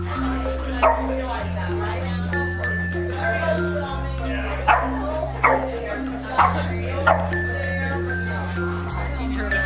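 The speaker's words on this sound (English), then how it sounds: "he's an 8-week-old German Shepherd pup" An 8-week-old German Shepherd puppy yips and whimpers in short bursts near the microphone, with music and a person talking underneath.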